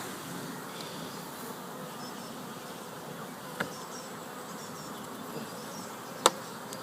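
Honey bees hum in a dense, steady drone around an open beehive during an inspection on a calm day, with two faint clicks from handling.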